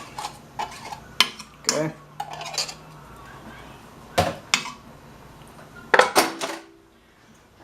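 Spoon scraping sweetened condensed milk out of a metal can, heard as a series of sharp irregular clinks and scrapes with quiet gaps between them, and a brief word spoken once.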